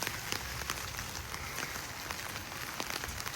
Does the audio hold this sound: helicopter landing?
no